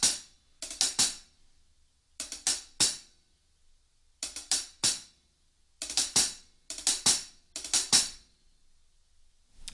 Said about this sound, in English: This is what it sounds like when I use double strokes on the hats.